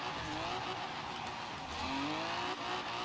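A BMW V10 engine swapped into a Nissan 240Z with a Rocket Bunny body kit drones steadily nearby, its pitch rising and falling with a brief tire squeal, on racing tires in snow.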